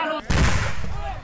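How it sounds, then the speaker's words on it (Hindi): Gunfire at the Lailapur stretch of the Assam-Mizoram border during a violent clash between the two states' police forces, a loud sharp burst with a rolling echo that fades out, close and harsh. "जहां गोलियां चल रही थीं,"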